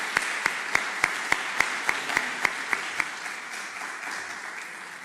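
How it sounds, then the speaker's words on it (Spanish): Audience applause after a conference talk on palliative care, a steady wash of clapping with one prominent near clapper beating a regular rhythm for about three seconds before the sound evens out and fades slightly. "Le damos un aplauso por todo el esfuerzo"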